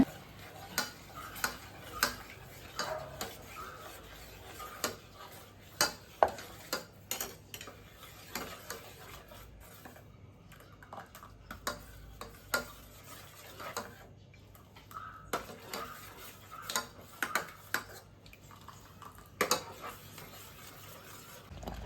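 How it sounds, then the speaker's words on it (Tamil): Ragi flour being stirred into water in a pot, heard as faint, irregular clinks and taps of a utensil against the pot, close and quiet with no voices. "நல்லா இந்த மாதிரி கலந்து விட்டுக்கிட்டே ராகி மாவை ஊற்றணுங்க"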